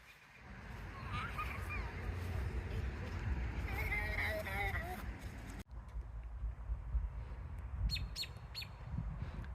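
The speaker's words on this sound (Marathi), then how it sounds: "पक्ष्यांचे आवाज ऐका" Birds chirp and tweet in the trees of a residential apartment community in spring, with bright repeated calls over a steady outdoor background hum, then fainter chirps near the end.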